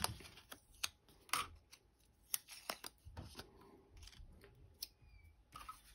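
Paper flower cut out for a handmade birthday card, with close, crisp scissor snips and paper rustles in an irregular rhythm and no talking.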